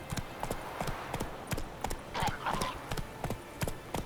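Horse hooves clip-clopping at a steady trot in The Witcher 3, a regular rhythm of close hoofbeats with someone talking over them.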